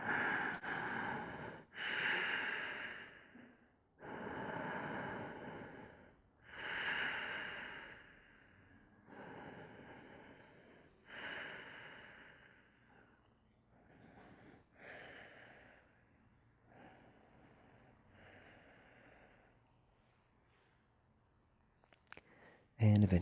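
Slow, deep breaths in a yoga class, each long inhale and exhale drawn out in a steady rhythm, close and moderately loud, with a brief louder sound at the very end.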